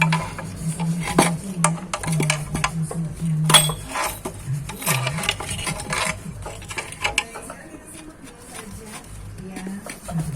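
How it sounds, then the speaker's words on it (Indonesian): Metallic scraping and clinking of two screwdrivers prying at a stuck part of a seized Honda GX160 engine, with scattered knocks, under someone talking throughout. "Gunakan 2 obeng. Kita congkel ke atas. Ini agak susah ini karena lengket."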